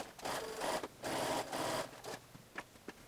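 Sewing machine stitching the top edge of a pair of boho-style shorts trimmed with pom poms, running in two steady bursts of motor whir, then a few soft clicks as it slows and stops.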